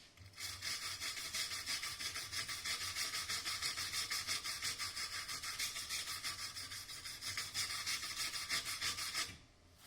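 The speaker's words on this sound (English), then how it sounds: "Once again, stainless wire brush." A stainless steel wire brush scrubs soot off a fresh aluminum MIG weld bead in fast, even back-and-forth strokes, a continuous rhythmic scratching rasp heard close for nearly ten seconds before stopping.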